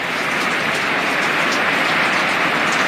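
Dense, steady storm rain roars without pause, a loud broadband wash heard from inside a shed, with no voices.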